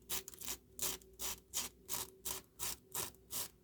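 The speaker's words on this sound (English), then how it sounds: "Just by rubbing we can prepare the surface." A Jinhao 599 fountain pen's broken grip rubbed back and forth on a 100 grit emery sheet, eight steady rhythmic scratchy strokes about half a second apart, close and fairly quiet, no talking.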